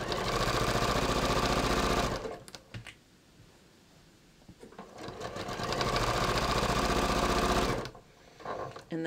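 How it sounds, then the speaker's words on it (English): A sewing machine stitches up the inseam and back crotch seam of a pair of ready-to-wear pants. It runs in two loud, steady bursts with a short quiet pause between them. "I'm just going to sew right up the inseam"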